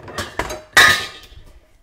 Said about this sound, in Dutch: Dus ik ga eventjes mijn pan pakken.